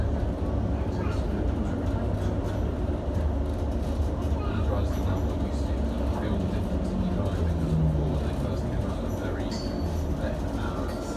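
A London Overground train bound for Gospel Oak rolls along with a continuous low rumble and wheel noise, steady and fairly quiet throughout, with faint voices in the carriage.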